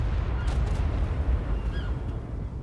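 Explosions in the video game ARK: Primal Nemesis, a dense continuous low rumble of booming blasts heard at a distance, with a few sharper cracks on top and no talking.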